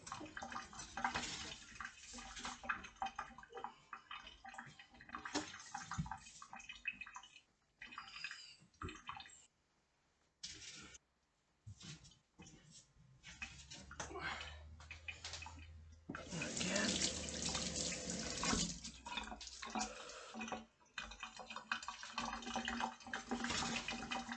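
Water running from a tap while a surface spattered with bacon fat is washed with soap, a steady splashing stream that briefly stops and restarts, then swells louder with gushing as the washing continues.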